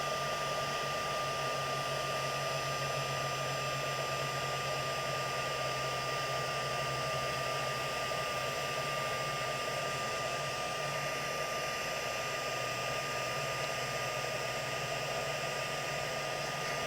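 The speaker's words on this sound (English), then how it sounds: "Now I'm going to unplug my heat tool." A heat tool melts embossing powder on a handmade seasonal paper tag, blowing a steady, loud, hair-dryer-like whoosh with a constant motor hum that runs unbroken and alone for the whole stretch.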